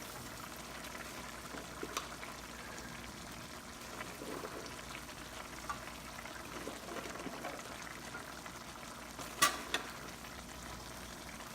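String beans frying in a pan with pork for adobong sitaw, giving a steady low sizzle throughout with a few soft stirring clinks, including a sharper clink near the end.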